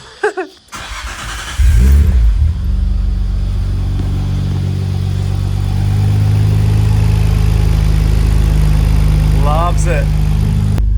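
Nissan RB26 engine with an HKS V-Cam in a wagon, thumping alive and then revving hard into a loud, sustained pull that holds at high revs, with brief talking near the start and end.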